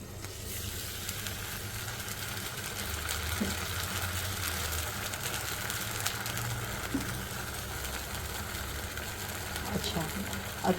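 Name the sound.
pouring lentil dosa batter onto a hot non-stick pan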